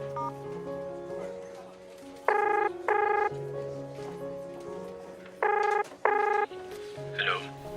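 A phone being dialed to make a call: a series of electronic keypad beeps in short pairs over a background of soft music, fairly close and clear.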